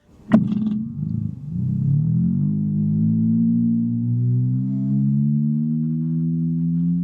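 A sharp attack gives way to a sustained, heavily processed electric guitar drone that swells and holds, smooth and synthetic-sounding, with no voices.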